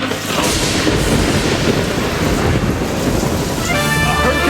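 A storm sound effect in a school stage play of The Little Mermaid: loud continuous rain and rumbling thunder filling the space, with a faint tonal ringing near the end.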